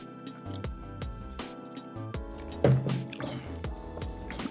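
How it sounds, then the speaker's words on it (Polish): A person drinks some water up close, with small wet squishes, drips and swallowing sounds in an irregular run, moderately quiet and free of talk. "Ja się napiję trochę wody."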